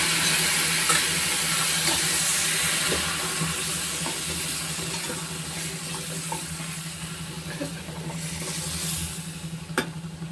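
Tempering is poured into a watermelon rind curry (kootu) in a pan, producing a steady sizzle and hiss with scattered sharp pops and crackles of splattering oil that gradually settle.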